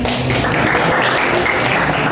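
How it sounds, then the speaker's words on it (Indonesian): A classroom of students claps for a group, a dense, loud and even burst of applause from many hands that lasts the full two seconds. "Kita berikan aplaus untuk kelompok 1."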